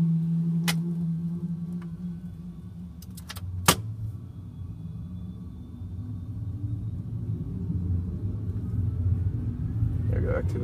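A Sabreliner jet engine starting up: a low, steady rumble with scattered clicks and one sharp snap, then a faint whine that begins to rise near the end.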